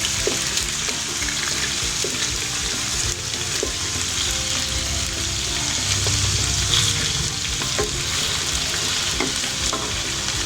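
Chicken pieces fry in a pan of oil for white korma, a loud, continuous sizzle with occasional spits and light scraping, close and unbroken, with nobody speaking.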